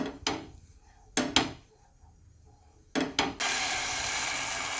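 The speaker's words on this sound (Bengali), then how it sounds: "এখানে আমার ব্রাশ হচ্ছে বেগুনের যে বোটা সেই বোটাটা নিয়েছি নিয়ে ননস্টিকের তাওয়াতে গুলিয়ে দিচ্ছি" A brinjal stem used as a brush scrapes across a nonstick tawa in a few short, separate rubbing strokes, close and fairly faint, followed by a steady sizzling hiss.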